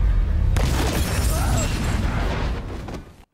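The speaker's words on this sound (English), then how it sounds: "Special attack! Exploding star!" A large explosion boom from the Exploding Star special attack in the One Piece anime, a loud blast that rumbles and decays over about three seconds before cutting off.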